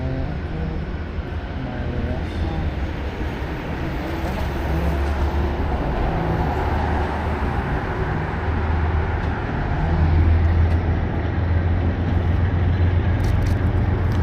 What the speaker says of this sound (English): Ooh, Amtrak be moving.